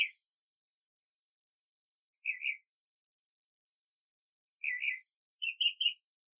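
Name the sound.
bird calling outdoors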